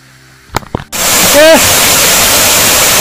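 A roaring waterfall on a hiking trail, a loud continuous rush of falling water that bursts in suddenly after a few brief knocks and stays steady and close.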